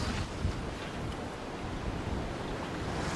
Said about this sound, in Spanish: Entonces vinieron las sorpresas del viento, del agua, de la profundidad, de las olas.